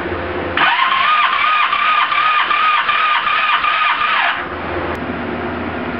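Engine cranking on the starter during a cylinder compression test, a steady rhythmic chug of evenly spaced compression pulses for about four seconds, then stopping.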